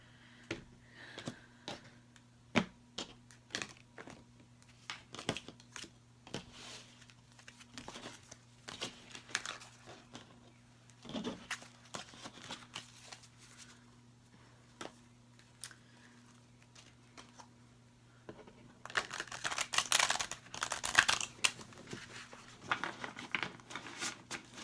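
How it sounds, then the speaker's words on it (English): A new tarot card deck being shuffled by hand gives soft crinkling taps and riffling clicks in irregular bursts against a steady low hum, growing busier and louder near the end. "let me shuffle these good, since it is a new deck"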